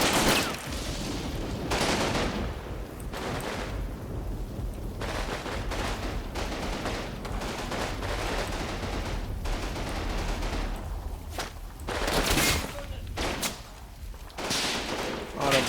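Heavy machine gun and battlefield gunfire in a war video game, dense bursts and fusillades of shots rolling continuously with louder volleys, and players talking over the din.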